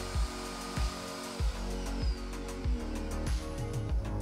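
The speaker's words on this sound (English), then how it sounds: "I round it off nicely and bevel it at a 45 degree angle using a small disc sander" A small disc sander whirs steadily with a hard rasping contact roughly every half second, repeated bursts of abrasive grinding as it rounds and bevels a wooden knife handle.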